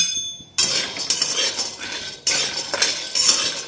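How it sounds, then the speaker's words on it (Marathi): Peanuts roast in a metal pan in a home kitchen, with sharp metallic clinks and scrapes of a spoon stirring at irregular intervals, loud and close, with no talking. "शेंगदाणे ठेवलेत भाजायला."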